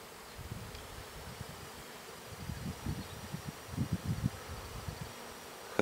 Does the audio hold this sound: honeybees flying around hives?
yes